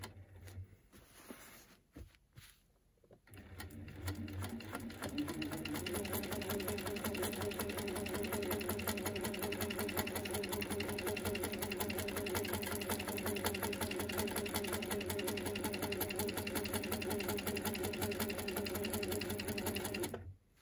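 Sewing machine doing free-motion quilting around appliqué, starting after a few quiet seconds of handling, then running in a fast steady mechanical chatter close by for the rest of the clip.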